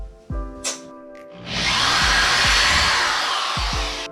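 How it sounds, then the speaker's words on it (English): A power drill whirs into a wall for a couple of seconds, with grinding noise and a few knocks and clicks around it. "so let's drill the next hole"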